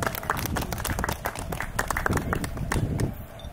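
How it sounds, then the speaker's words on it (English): A tournament crowd applauds volunteers, sustained clapping from many hands, fairly loud and steady for several seconds with a few voices mixed in near the end. "so if we could give them a big round of applause."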